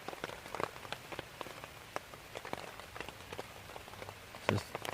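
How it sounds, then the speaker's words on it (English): Soft rain patters steadily onto a stream and an overhead British army basha tarp, a quiet, close, irregular drizzle of drops with a few louder splats. "listen to the rain on the stream"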